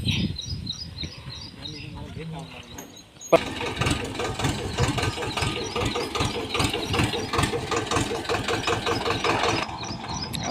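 A tractor engine turns over and starts with a sudden roar, then runs steadily and loudly as the tractor reverses, while people talk and birds chirp faintly.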